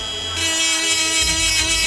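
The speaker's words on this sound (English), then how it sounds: "I use a little fucking grinder and I just put a line where my bolt is" A small grinder marking a line on a car shock absorber shaft while lowering a Honda Civic Type R EP3: a steady, loud high-pitched whine that rises as the tool spins up and bites, close and alone.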